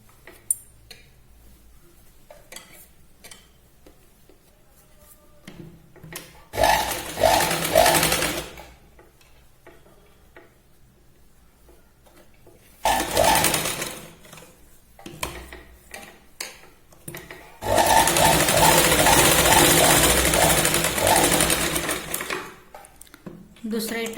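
A sewing machine stitches tucks into the back of a boat-neck blouse, running in three loud bursts of rapid mechanical whirring separated by quieter gaps with faint handling sounds.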